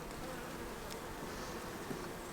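Honey bees swarming around a hive right after a rain shower, a dense continuous buzz of many wings close by, steady and even throughout with no voices.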